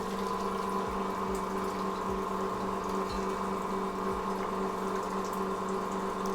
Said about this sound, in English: We'll do a little rinse